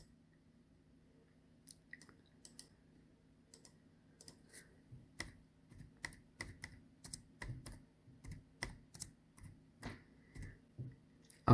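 Fingers typing a search on a computer keyboard, sparse keystrokes at first that quicken into irregular clusters of clicks, close and distinct against a quiet room with no speech.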